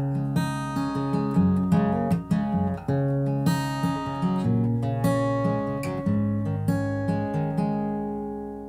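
Acoustic guitar plays the intro of a song alone, picked notes ringing over sustained chords in a steady, close, moderately loud pattern.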